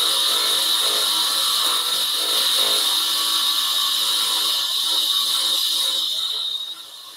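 A flat top disc grinder abrades a surface with a vacuum attached, giving a loud, steady high-pitched whine with a harsh grinding hiss that holds for most of the stretch and drops slightly near the end.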